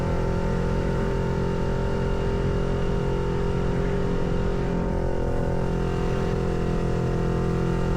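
A 2023 Kawasaki Ninja 400 motorcycle cruising through town on Easter Sunday, its engine droning steadily with a constant rumble and wind noise, no clear revving, running throughout.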